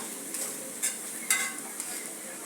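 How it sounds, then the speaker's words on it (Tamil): A pan of chicken gravy bubbles and simmers steadily, with a soft hiss and a few sharp pops and spatters breaking through. "இப்படி கொதிக்குது பாருங்க, செமையாக மனமாக இருக்கு."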